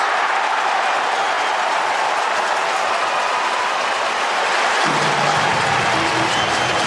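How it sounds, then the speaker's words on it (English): A large crowd at an AFL match between Sydney and Fremantle roars and cheers after a Sydney goal, a sustained loud wash of voices and applause that stays steady, with a deeper swell joining near the end. "the Sydney faithful cheer for the number 9 for the red and whites"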